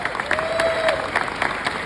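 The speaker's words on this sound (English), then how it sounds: "So please join me and keep the applause going to celebrate Nicki Hangsleben" Audience applause at an award ceremony honoring Nicki Hangsleben, a steady wash of clapping hands filling the room, fairly loud and continuous with no speech over it.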